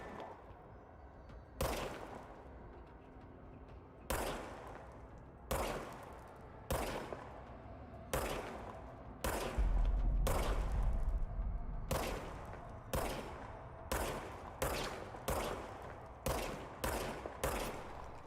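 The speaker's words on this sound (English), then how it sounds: "Now I have a gun." Gunfire in the video game Control comes as a regular series of sharp, loud shots spaced a second or two apart and speeding up toward the end, with a brief low rumble in the middle and no talk.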